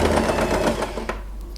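Sewing machine running over fabric while making a scrunchie from an old hair tie, a brief close burst of dense rapid mechanical stitching that eases off toward the end.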